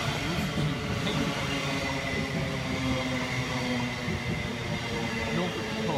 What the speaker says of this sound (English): Now coming in on platform 3, 700129, doing one of the rare few services a day